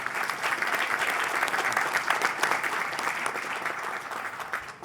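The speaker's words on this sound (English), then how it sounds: "You all want to clap? Go." Audience applause fills a Long Island smart growth summit hall, a dense, steady clapping that holds at an even level throughout with no pauses.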